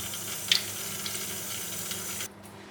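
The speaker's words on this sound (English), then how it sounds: "I'm gonna wash my hands." Water runs from a kitchen tap as hands are washed beneath it, a steady close splash with a brief clatter near the start before the flow cuts off abruptly near the end.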